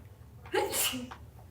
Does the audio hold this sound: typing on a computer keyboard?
no